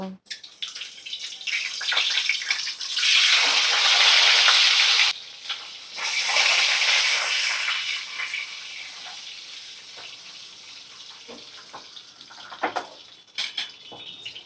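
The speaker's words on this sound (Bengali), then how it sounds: "তো ডিম আর আলু আমি ভালো করে ভাজা করে নিচ্ছি।" Boiled, peeled eggs and potatoes frying in a pan for a home-style egg biryani, giving a steady loud sizzle that swells, dips around five seconds, then settles into a softer crackle with a few sharp pops near the end.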